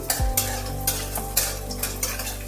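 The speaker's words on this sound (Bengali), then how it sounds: "কুচিয়ে রাখা রসুন একটু নাড়িয়ে চাড়িয়ে নিতে হবে" Chopped garlic with fenugreek seeds stirred in hot oil for lentil tadka: a steady sizzle with a spoon scraping the pan in regular strokes, close and alone.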